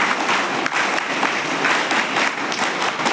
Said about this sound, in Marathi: स्टेजवर बसलेल्या सगळ्या लोकांसाठी टाळ्या वाजवा.